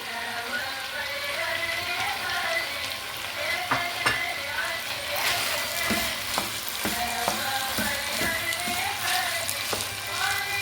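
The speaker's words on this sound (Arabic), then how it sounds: "دلوقتي بقى هحط البصل بتاعي، وهفضل بقى اشوح في البصل ياخد ويدي كده مع نفسه" Onions are sautéed with meat in a pot for an Eid al-Adha meal, making a loud, steady sizzle throughout, broken by frequent scraping stirs close by, with no clear speech.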